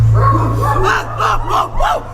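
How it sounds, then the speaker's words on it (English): Dogs barking during an outdoor Shakespeare stage performance of The Merry Wives of Windsor: a run of four or five sharp barks, moderately close, over a low steady hum with faint crowd noise. "Why do your dogs bark so?"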